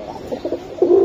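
Pigeons coo softly and close by in a breeding loft where hens sit on eggs, a few short throaty coos building to a fuller, louder coo at the end.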